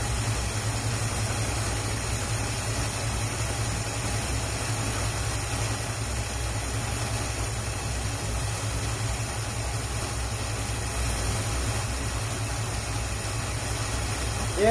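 An abandoned 1957 Chevy Nomad, left to sit for 28 years, idles while running low on fuel. The engine gives a steady, even hum with a constant hiss, close and unbroken throughout.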